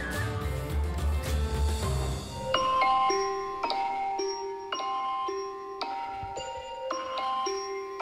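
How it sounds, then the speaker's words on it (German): An alarm clock rings with high-pitched electronic tones, a short melodic pattern of beeps repeating about once a second after a brief stretch of low rumbling noise, close and fairly loud. "Das ist ja, der hat ja hohe Töne, der Wecker."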